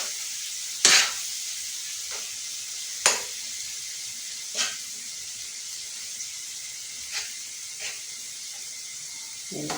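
Minced meat keema with tomato paste frying on a tawa over low heat, a soft steady sizzle broken by a few sharp hissing bursts and spatters as it is stirred, faint and without voices.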